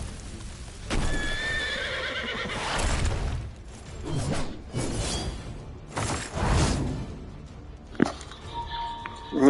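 A horse whinnies with a rising, shrill neigh amid clattering hooves and whooshing effects in a Final Fantasy Origins cutscene, moderately loud, with game sound effects following and no speech.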